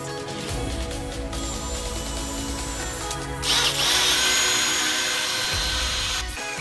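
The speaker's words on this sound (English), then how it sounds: "And I'm just gonna drill us a centering hole, roughly in the center." A power drill with a hole saw bores a centering hole for an ATV part, a steady close whine that rises in pitch and grows harsher partway through.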